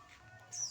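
A single bird call, short, faint and somewhat distant, rises briefly over a low outdoor murmur with no talking.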